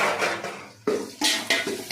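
Coriander being stirred into food in a pan, with several sharp metallic clinks and scrapes of a utensil against the pan in quick succession, close and fairly loud, with no talking.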